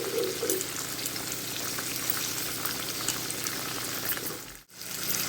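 Diced potato, carrot and onion for vegetable upma fry in a pan with a loud, continuous crackling sizzle, close up, broken by a brief dip near the end, with no talk.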